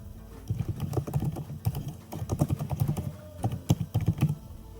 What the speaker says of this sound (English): I'm just going to type an address.